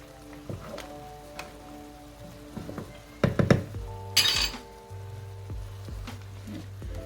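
Cooked pasta being strained for a spicy butter pepper shrimp dish, with clinks of a metal pot and colander, a brief rush of pouring water and hiss, and faint background kitchen tones.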